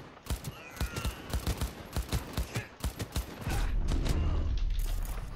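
Rapid gunfire from the video game Cyberpunk 2077 crackles in a quick, even burst of shots, then gives way to a dense rumbling, mechanical roar that fills the last couple of seconds.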